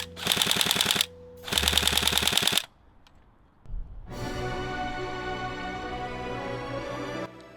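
A Tokyo Marui AK-47 Type 3 Next Gen recoil airsoft AEG fires two rapid full-auto bursts of sharp, evenly spaced mechanical clacks, followed after a pause by a steady whirring mechanical hum.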